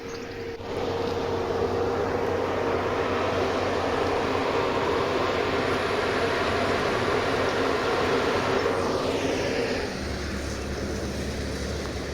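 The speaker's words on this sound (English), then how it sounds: "And I've got a tractor making a racket." A farm tractor's engine rumbles steadily near a disused railway walking trail in Derbyshire. The loud, continuous drone holds throughout and shifts to a deeper, lower tone near the end, with no talking.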